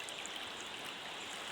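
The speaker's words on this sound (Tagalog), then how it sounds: "Babad-babad lang sa ilog." A river in the countryside flows steadily with a continuous close rushing and babbling of water, even and unbroken throughout, with no voices over it.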